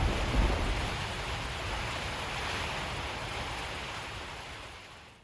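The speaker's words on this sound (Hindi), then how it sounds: "बारिश की इस खौफनाक आवाज़ से मेरी आंख खुल गई।" Heavy night rain in the Siran valley of the Naran Kaghan area, a constant dense roar with gusty wind mixed in, loud and close at first and easing slightly toward the end, with no voices.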